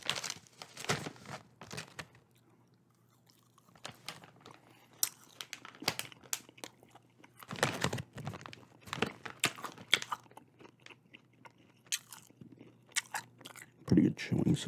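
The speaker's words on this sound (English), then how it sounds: "Pretty good chewing sound too, it seems like." Crunchy food being bitten and chewed close to the mic in a whispered ASMR setting, with scattered crisp crunches in clusters separated by quiet gaps and occasional soft speech.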